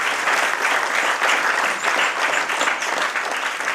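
Steady, dense applause from an audience at a school event for the opening of a dining hall, continuous and fairly close with no breaks.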